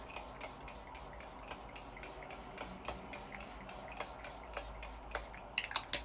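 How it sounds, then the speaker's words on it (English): A face mist spray bottle fires a rapid series of soft, fine hissing bursts close by, an even pump-like rhythm repeated many times at low volume, ending in a few sharper clicks. "So I'm gonna spray my face using the Wee Cherie spray."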